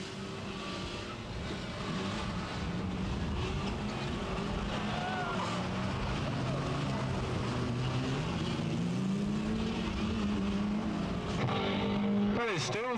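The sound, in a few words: race cars on a raceway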